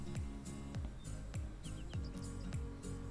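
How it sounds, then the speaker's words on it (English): Chirping bird calls woven into soft background music, faint and repeating in short tweets over a steady rhythmic beat and low bass pulses. "there are bird noises in this BGM"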